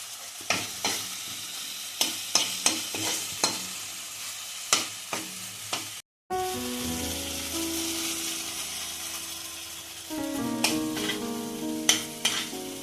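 Chopped tomato and spices fry in a pan, with a steady close sizzle and repeated sharp scrapes of stirring, which pause briefly and then return as a louder frying hiss.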